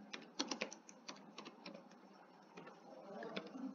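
Quiet keys on a computer keyboard are tapped in an uneven run of light clicks, some clustered quickly and others spaced out, close to the mic with faint background hiss and no talk.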